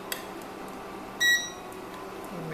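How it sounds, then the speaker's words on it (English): An induction cooker sounds a short electronic beep, a single bright tone with overtones, while cocoa butter is being made and no pan sits on the cooking surface. The beep is brief and clear over a quiet room background. "Of course, the induction cooker will beep"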